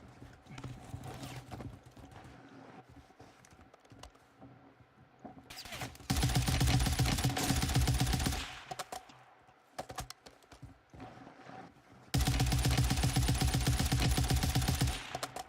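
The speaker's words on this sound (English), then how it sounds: "We have somebody shooting at us." Rapid bursts of video game gunfire during a live-streamed shooter match, sounding as two long, dense stretches of fast repeated shots with quieter ambient game noise and scattered sounds between them.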